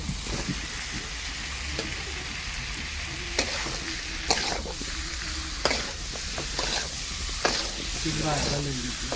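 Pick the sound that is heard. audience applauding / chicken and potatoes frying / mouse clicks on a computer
chicken and potatoes frying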